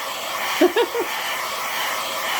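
A hair dryer blows steadily over alcohol inks on a cradle board, with a constant airy whir and a few short tonal blips partway through.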